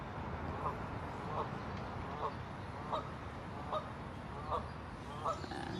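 Geese or similar fowl honk in a rhythmic series of calls roughly every second, moderately close, over a steady background rumble.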